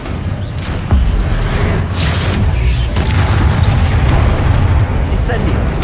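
A Confringo spell explodes in Hogwarts Legacy as deep booming blasts thud through dense game combat noise, with a player shouting spell names over the fighting.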